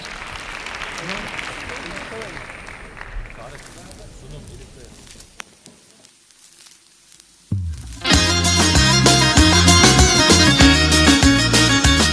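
Audience applause with cheering in a large venue at a televised youth awards show, swelling under an announcer's voice, dipping briefly, then giving way to loud music as the singer's performance begins.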